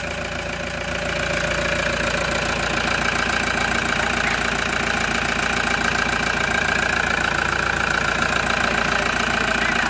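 A Toyota HiAce engine running just after a hard start, a steady mid-pitched idle with a rapid rhythmic knocking pulse that settles and holds loud and close, with no voices.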